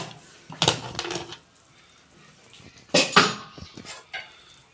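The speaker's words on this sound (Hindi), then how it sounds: "10 से 12 मिनट हमने ये प्रेशर कुकर लगाया था। अब हम खोलने लगे हैं।" Metal clanks and scrapes as a pressure cooker is opened, heard in a few separate bursts of pot-and-lid clatter with quiet gaps between them.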